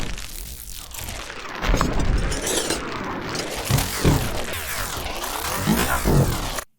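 A sci-fi magic spell effect with pitch-shift automation, a dense, crackling and shimmering texture that sweeps up and down in pitch, swells louder midway, and ends abruptly.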